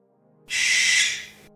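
A barn owl lets out a single harsh, hissing screech at night, loud and close, lasting about a second before fading into silence.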